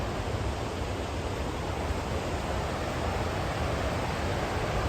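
A waterfall fed by a swift, heavy river roars as a steady, dense wash of rushing water, constant and unbroken, with no voices over it.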